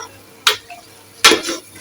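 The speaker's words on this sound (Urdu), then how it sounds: "اب اس کو ہم اچھی طرح مکس کر کے بھون" Cauliflower being stirred and fried in a pan for aloo gobhi, with two distinct scraping stir strokes against the pan over a faint steady background.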